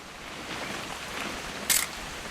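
A single camera shutter click snaps once, short and sharp, near the end, inside the video game What Remains of Edith Finch, over a faint ambient wash with no talk.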